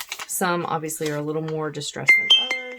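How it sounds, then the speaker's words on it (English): A phone notification chimes as a short bright tone near the end, heard under a woman's ongoing speech. "Oh, that was my phone."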